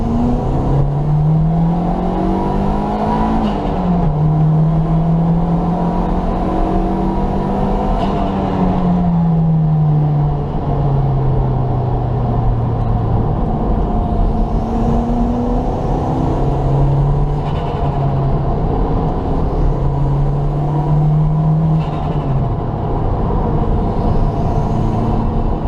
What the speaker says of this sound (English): Second gear pull up here.